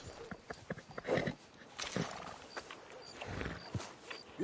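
Horse sounds from Red Dead Redemption 2: a horse snorts and its hooves clop in an uneven rhythm, close and moderately quiet.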